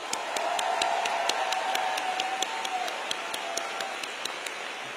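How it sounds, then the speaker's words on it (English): An audience applauds volunteers at an evening political event in Tulsa, Oklahoma, a steady wash of many hands clapping at moderate distance that holds throughout with slight swells. "Let's have some applause for them."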